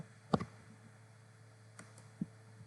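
A single computer mouse click near the start, followed later by two fainter clicks, each short and crisp against a quiet room with no talk.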